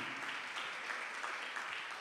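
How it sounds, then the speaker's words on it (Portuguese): Church congregation applauding continuously during a worship service, a steady wash of clapping heard from within the crowd. "Aleluia, aplauda o nome do Senhor."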